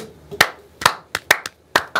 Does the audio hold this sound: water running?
no